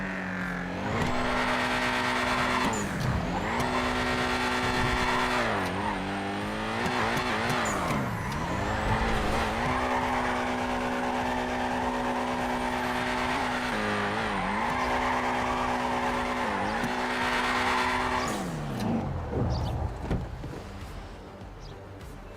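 A 1970 Fastback in a roleplay racing video game revs loudly through repeated gear shifts, its engine note rising and dropping with bursts of tire squeal and skidding, continuous and close before easing off near the end.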